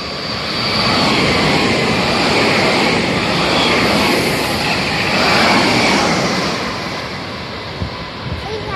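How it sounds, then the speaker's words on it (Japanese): A Meitetsu 3150 series electric train, coupled with a 2200 series set, runs through Okazaki-koen-mae station without stopping, a loud, sustained roar of wheels and motors that swells, stays close, then eases off. "電車来たよ。"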